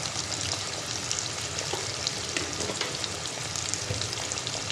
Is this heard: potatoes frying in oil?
yes